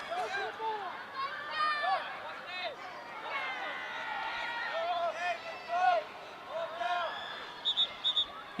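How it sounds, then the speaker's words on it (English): Fans watching a youth boys' soccer match between Virginia Rush and Beach FC make a distant hum of chatter and scattered shouts. Bird-like chirps and sharp whistles cut through at times, and the noise carries steadily in the background. "You can hear the crowd in the background."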